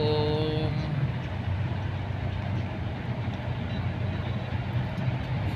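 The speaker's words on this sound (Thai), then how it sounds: "ฝนตกแล้วก็ รถติด" Road traffic jam in heavy rain on Rama 2 road near Bang Mod, Bangkok: a steady low rumble of engines and rain, with a brief tonal whine at the start, continuous and fairly near.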